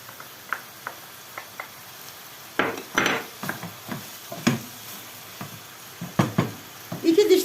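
Onion sizzles steadily in oil under scattered clinks and scrapes of a utensil, with a burst of louder crackling toward the end.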